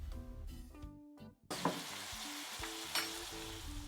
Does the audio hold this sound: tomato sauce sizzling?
yes